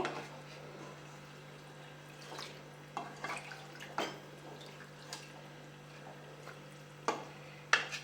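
A spoon scraping and stirring thick chicken biryani gravy in a pot, slow irregular clinks and wet scrapes at moderate distance, with a steady low hum behind them.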